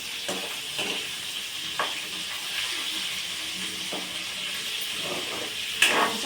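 Okra and brinjal sizzle and fry in a pan for a vegetable sambar, with a steady hiss and occasional stirring clatters, close and moderately loud.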